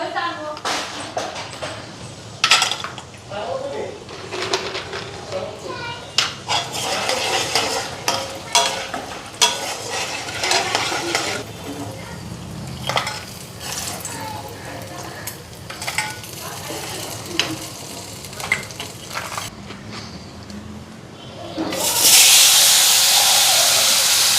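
Continuous oily sizzling and hissing of lentil dumplings frying in a pan, with occasional stirring clatter, ending in a louder burst of sizzle.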